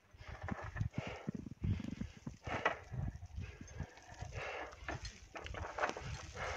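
Pack horses plod along the snow-covered Everest Base Camp trail during heavy snowfall, their hooves clopping and scuffing close by in an uneven, continuous rhythm, with no talking over the steady trudging.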